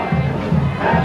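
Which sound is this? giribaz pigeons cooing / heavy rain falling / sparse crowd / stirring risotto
sparse crowd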